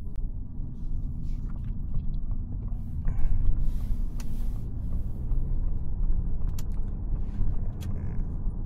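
Steady low road rumble inside a 2025 Ford Kuga hybrid cruising on the motorway in eco mode, even and continuous with occasional small creaks and clicks from the cabin.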